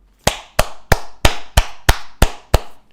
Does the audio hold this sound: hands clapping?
yes